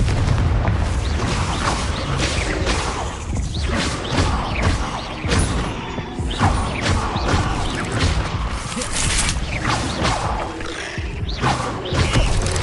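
Confringo spell blasts in the Hogwarts Legacy video game: a dense, loud barrage of booming explosions and crashing impacts with mechanical clatter, continuous and close throughout.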